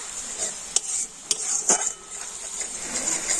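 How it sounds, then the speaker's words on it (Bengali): Sour curd stirred into hot spiced oil in a pan: a steady, close sizzle with a few sharp metal clinks of the spoon against the pan. "টক দইটা দিয়েও নাড়াচাড়া করে নেব আমি"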